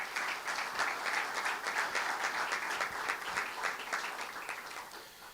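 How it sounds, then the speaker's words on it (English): An audience applauds two university regents at an Oklahoma State University press conference, steady moderate clapping that runs evenly throughout before tapering slightly at the close. "Let's give them a round of applause."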